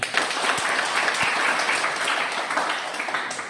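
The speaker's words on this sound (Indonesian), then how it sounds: "Baik, terima kasih, berikan tepuk tangan." Students in a classroom applaud the end of a group presentation, a short burst of mixed clapping from a small group, fairly close and slightly uneven, with a couple of louder thumps near the start.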